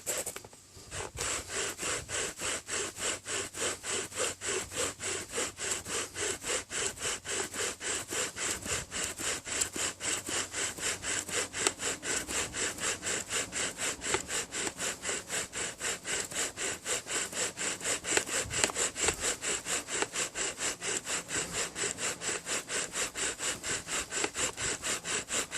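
A wooden bow drill spindle is spun back and forth on a crepe myrtle board during a burn-in. A steady, rapid rasping rhythm of regular strokes continues without a break throughout.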